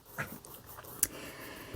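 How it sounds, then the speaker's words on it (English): A small dog gives a few short, raspy coughs and wheezy breaths, fairly quiet and close by, with brief pauses between them. "My little dog is coughing in the background."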